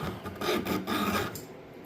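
A chainsaw chain is sharpened by hand with a file, giving several close rasping strokes in a steady back-and-forth rhythm with short pauses between them.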